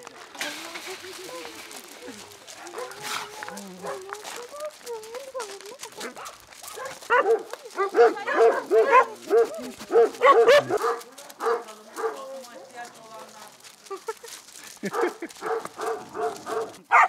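Many dogs at an animal shelter in Turkey bark, yip and whimper in overlapping bursts, some close and loud, others farther off, with people talking among them.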